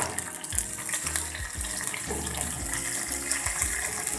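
A couple of spoonfuls of water poured into hot tempering of chilli pieces and curry leaves for Surati khaman, giving a gushing splash over crackling oil that goes on in a fairly quiet, steady wash with no voices.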